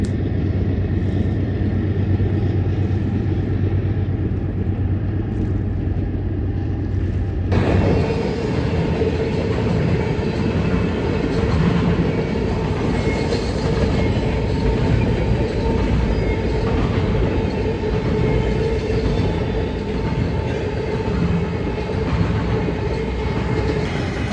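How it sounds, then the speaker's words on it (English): A freight train rumbles past on the tracks of the Martinez Subdivision with a steady, loud roar and rhythmic clatter of wheels that carries on the whole time. "our first train catch of the day was this train right here"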